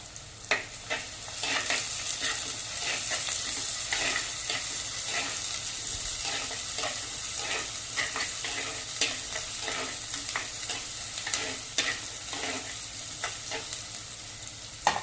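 Crushed garlic cloves and small onions frying in oil in a pan for a murrel fish curry, a continuous close sizzle broken by frequent crackles and spatters as the pan is stirred.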